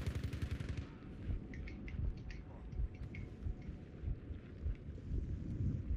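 Gunfire rattles through a Battlefield V Firestorm match during the siege of Odenham, dense bursts of distant shots and booming rumble, with rapid cracks scattered among low thunderous impacts and a voice speaking briefly amid the combat.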